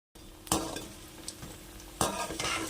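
Bottle gourd vada frying in oil in a pan, a soft steady sizzle with a couple of sharper scraping or stirring clinks, heard close and fairly quiet with no voices.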